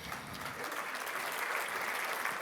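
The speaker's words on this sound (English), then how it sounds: "big round of applause." Sustained applause from a large audience at an ocean summit in Gothenburg, steady dense clapping that fills the whole stretch without a break.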